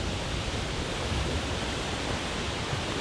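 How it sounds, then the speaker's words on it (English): A steady, dense roar of rushing water fills the scene, broadband and constant like a waterfall heard from nearby, with no voices. "Check out the waterfall."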